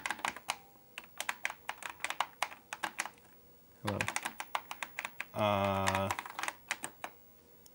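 Keys clack in quick irregular bursts on an Apple IIe computer keyboard, close and crisp, with a brief greeting spoken and a short tonal beep partway through.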